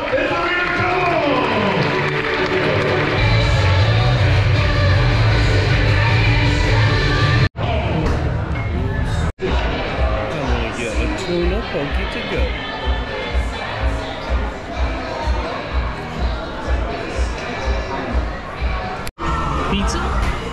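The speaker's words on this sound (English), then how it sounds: "Give them a big round of applause" A crowd at a magic show aboard the Carnival Jubilee cruise ship claps and cheers, a dense, loud burst of applause with yells, broken by short cuts and followed by rhythmic clapping, with voices mixed in.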